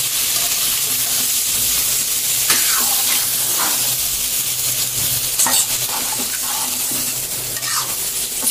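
Crab curry masala sautéing in a pan, a steady loud sizzle and hiss with repeated scraping stir strokes throughout, no talking.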